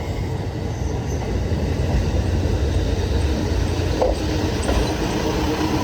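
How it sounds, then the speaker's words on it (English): A one-car local train in eastern Hokkaido rumbles in steadily with a low, continuous roar of wheels on rails, a faint squeal rising briefly near the end; no one speaks. "I hear the train."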